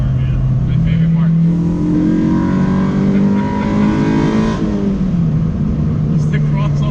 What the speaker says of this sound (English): this thing screams. It's all intake noise